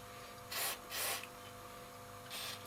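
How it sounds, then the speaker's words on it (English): Contact cleaner sprayed from an aerosol can into the valve sockets of an old Ferrograph amplifier, three short hissing bursts, close, over a faint background hum. "spray a bit of contact cleaner in the"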